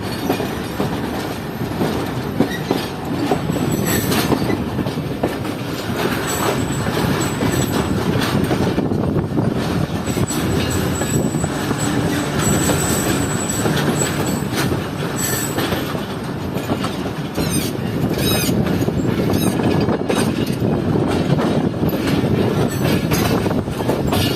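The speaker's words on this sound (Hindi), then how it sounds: "हमारी ट्रेन अब ट्रैक्स चेंज करते हुए जा रही है रोड़ी जंक्शन के प्लेटफॉर्म नंबर 3 पर" A Shalimar Express passenger train rolls over switches while changing tracks into Rohri Junction, with steady loud rumbling, wheel squeal and rattling clatter heard from inside an AC Standard coach throughout.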